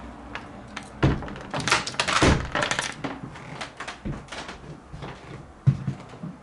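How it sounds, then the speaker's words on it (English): A closet door is pushed shut up close, with a cluster of wooden knocks, rattles and a firm thud, followed by a few softer bumps. "close the closet"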